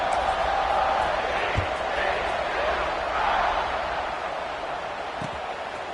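A football stadium crowd at an SMU game roars after a touchdown, a broad, steady wash of cheering that slowly eases off, with a few scattered thumps.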